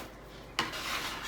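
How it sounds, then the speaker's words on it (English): A metal bench scraper cuts through sourdough bread dough with a short, soft scrape and rub against the work surface. The sound is faint and close, with no talking. "I'm using a bench scraper, but you can use a knife just as well"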